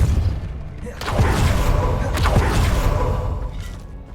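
Confringo and Depulsor spell blasts in the Hogwarts Legacy video game: two loud, close explosive bursts about a second apart, with crackling debris over a steady low rumble that fades toward the end.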